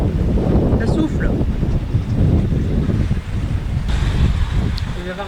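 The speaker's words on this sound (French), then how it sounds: "on a eu un vent très fort." Strong wind roars across the microphone aboard a sailboat heading out among the Egadi Islands, a steady loud gusting rush with water and hull noise beneath and brief faint voices.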